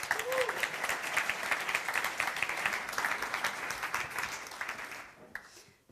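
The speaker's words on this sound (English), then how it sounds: "I'd like us to give a huge applause to Patrick for doing a magical job as an MC today" A conference audience applauds its MC, a steady crowd clapping at moderate volume that tapers off and stops near the end.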